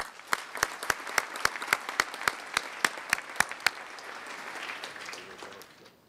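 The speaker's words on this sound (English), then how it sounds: "Please give them another round of applause." Applause at a state conference presenting community reconstruction plans, with a handful of sharp, loud individual claps standing out over a crowd's clapping, which thins and fades out.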